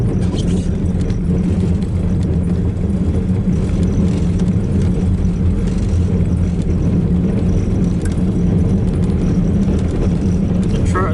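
A truck drives along a snowy road after a ten-inch snowfall, its engine and tyre rumble forming a steady, loud, close drone throughout with no breaks.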